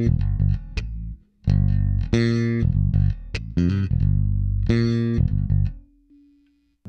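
A Fender 1966 Jazz Bass with both pickups on together, played alone and loud: a run of sustained, distorted notes with a bright attack, a brief pause around the first second, and a last note that fades out.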